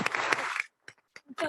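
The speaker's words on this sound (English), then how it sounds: "Hold on, you get applause first." Council meeting audience claps for a 12-year-old speaker in a short, dense burst that cuts off quickly, followed by brief bits of talk.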